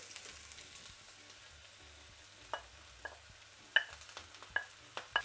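Chili frying quietly in a pan for Bangladeshi macher jhol fish curry, with a soft steady sizzle broken by a few sharp pops and stirring clicks, faint and close.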